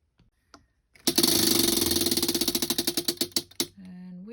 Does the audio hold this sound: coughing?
no